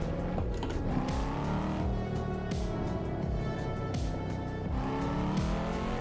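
Car engine in the Assetto Corsa racing game, loud and continuous with rising and falling revs through repeated gear shifts, alone without talk.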